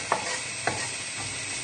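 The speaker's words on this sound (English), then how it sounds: "So we'll just give these shallots another little stir, and they'll only take probably another 30 seconds." Shallots sizzle steadily in a hot pan while a utensil scrapes through them in two distinct stirring strokes.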